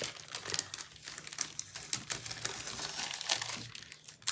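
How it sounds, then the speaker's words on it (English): Homemade faux tape made from Scotch tape and alcohol ink crinkles and crackles in the hands, with quick irregular rustles and ticks up close at a low level. "I'm going to take some of my faux tape"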